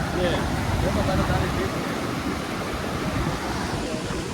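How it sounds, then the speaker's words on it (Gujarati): Heavy floodwater after a downpour rushing in a broad, constant roar, loud and close with wind buffeting the microphone and a voice faintly talking under it. "તમને દેખાડું કેટલું પાણી આવે છે"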